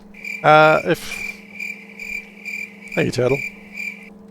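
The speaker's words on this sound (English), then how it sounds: "Those bloody crickets are back." Crickets chirp in a steady, high, continuous trill under two short bursts of a voice speaking.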